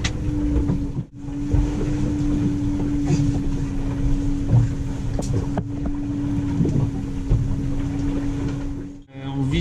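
A steady engine-like drone with a constant low hum runs throughout, with wind and water rushing around a sailboat at sea on a transpacific crossing.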